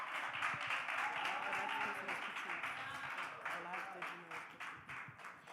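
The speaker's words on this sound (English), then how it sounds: "Clap it up for Kaylee, y'all." An audience at a National Action Network gathering claps steadily for a few seconds, a dense patter of hands mixed with voices and talk running underneath throughout.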